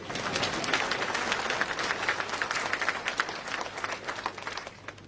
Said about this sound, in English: A clap for my council.